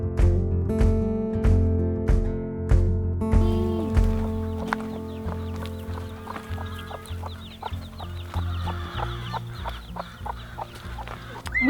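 Chickens in a deep mulch run, part of a flock of 300, cluck busily and overlap each other close by. Sharp repeated knocks sound early on, and soft, irregular clucking continues throughout.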